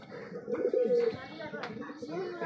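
Low pigeon cooing from a large Lila pigeon, a few soft throaty coos mixed with nearby people talking in a home pigeon loft.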